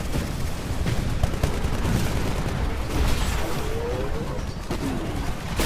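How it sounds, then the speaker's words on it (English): Cluster missile explosions in a Titanfall match, a dense continuous rumble of overlapping blasts and debris with scattered sharper bangs, loud and close throughout. "I kill myself with the cluster missile."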